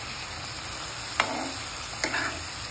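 Cashew pieces, cut fairly large, hit a hot pan of ghee while bottle gourd halwa is being made. Each drop gives a sharp sizzling burst that hisses briefly. There are two such bursts over a steady low frying hiss, with no talk.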